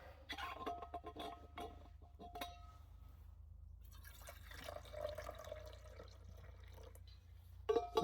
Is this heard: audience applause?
no